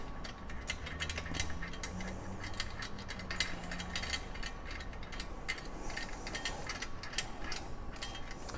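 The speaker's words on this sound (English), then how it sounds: "And then in goes the final bolt." A ratchet tightens the final bolt on a rear center rack of a CRF 300L motorcycle, giving quiet, rapid clicking strokes in a steady rhythm, close by, with no talking.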